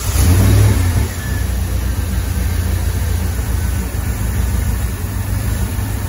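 Land Rover Defender 90 with an LS V8 engine swap runs after starting, with a loud low rumble and a brief rev at first, then settling into a steady, close idle.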